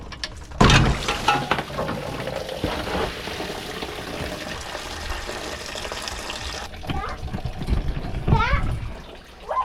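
Fluid drained from a 1979 Camaro Z28 engine pours and splashes steadily into an old concrete mixing pan, with voices talking nearby.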